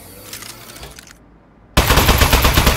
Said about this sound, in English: Presenting the Aperture Science Turret. Go on, take it for a spin.